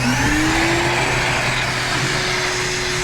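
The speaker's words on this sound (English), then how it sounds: "I'll hit the blower real quick and I'll show you what I'm talking about." A pool blower pushes air through the lines of an inground swimming pool being closed and winterized, a loud, steady motor whine with a rising tone at the start, then a constant drone with rushing air over the whole stretch.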